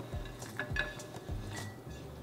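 Sesame seeds toasting in a pan, stirred with a utensil that scrapes and taps the metal in several irregular strokes over a faint sizzle, quiet and close, with no talking.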